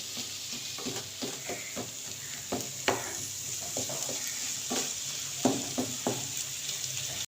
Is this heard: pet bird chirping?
no